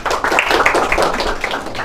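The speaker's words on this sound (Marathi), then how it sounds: "त्यांच्यासाठी जोरदार टाळ्या होऊ द्या" A quiz audience gives a burst of applause after a correct answer, many hands clapping together, loud and close for the whole stretch.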